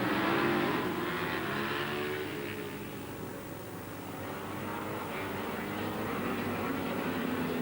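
Ducati and Honda racing motorcycles on a race track, a continuous blended engine drone that swells and eases slightly as the bikes run together at a distance.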